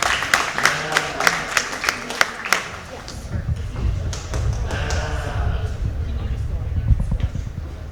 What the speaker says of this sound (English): let's give both these participants a big round of applause